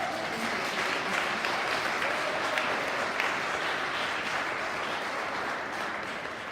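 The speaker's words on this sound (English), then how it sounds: "I think we should give Kofi another round of applause." An audience at SMARTS arts school in Youngstown, Ohio applauds pianist Kofi Boakye with steady, even clapping from a mid-sized crowd, continuous and moderately distant throughout.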